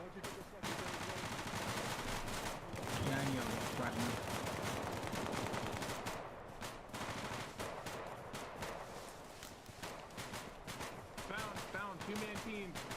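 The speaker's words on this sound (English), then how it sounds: "And support firing." Gunfire from a support team in a military shooter game: dense, continuous bursts of automatic fire with sharp cracks layered over a rumbling backdrop, fairly faint overall, with voices talking over it now and then.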